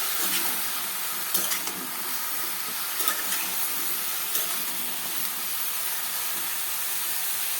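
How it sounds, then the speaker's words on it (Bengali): Chopped vegetables are stirred in a frying pan, a dense, steady sizzle and hiss with occasional scraping stirs rising above it, close and continuous. "দিয়ে আমি এগুলো একটু ভালো করে নাড়াচাড়া করে নেব।"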